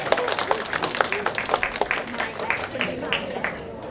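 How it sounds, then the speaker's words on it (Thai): Applause from an audience at a Thai university faculty retirement tribute event, greeting a pharmaceutical chemistry department's performers; scattered clapping runs steadily under talk and background voices. "ขอเสียงปรบมือให้กับภาควิชาเภสัชเคมีด้วยครับ"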